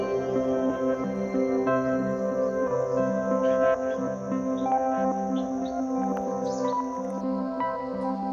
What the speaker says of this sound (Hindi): और इतने सारे इंसेक्ट्स, मोर, फ्रॉग्स, सबका साउंड।